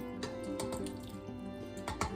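Conifer-infused olive oil is poured through a colander into a big bowl, giving a faint, low trickling and dripping with small splashy bursts over a soft background hum.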